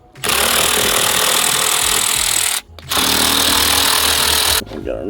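A power tool runs on 7mm bolts under a car dashboard cover, two sustained loud bursts of whirring with a brief gap between them, ending in a quieter tail.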